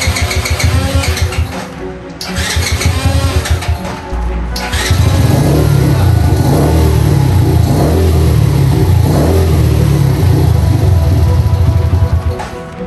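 A cheap off-road buggy with a weak electric starter cranks in choppy bursts for several seconds, then its small engine catches and runs loud and steady, revving with a continuous buzzing drone up close.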